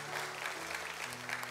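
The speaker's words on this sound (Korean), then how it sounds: "우리 박수 한번 해주시겠습니까?" Applause from a church congregation during an evening worship service, a soft, steady wash of clapping heard at a distance, with a sustained low tone running underneath.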